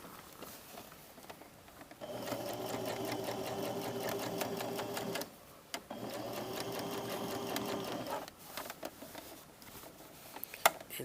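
Sewing machine stitching the seam line at a skirt waistband, two sustained runs of whirring stitches, soft and close, with a brief stop between them and light handling clicks after.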